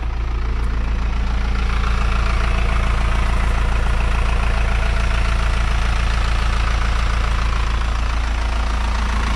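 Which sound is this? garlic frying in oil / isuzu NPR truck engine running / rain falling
isuzu NPR truck engine running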